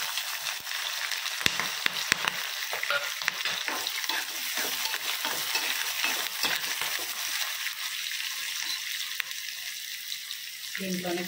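Ginger and green chillies fry in oil after a tempering of spices for a carrot egg porutu, a steady sizzle with frequent stirring scrapes and clicks close by.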